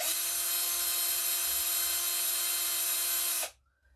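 A power drill twisting cord whirs at a steady high pitch for several seconds, then abruptly cuts off into near silence.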